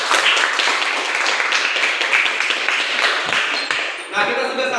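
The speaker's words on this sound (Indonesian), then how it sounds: "Tepuk tangan untuk mereka." Audience applause after a church group's skit parodying the parable of the lost son, a dense, steady wash of clapping from a crowd that carries on for several seconds and fades slightly near the end.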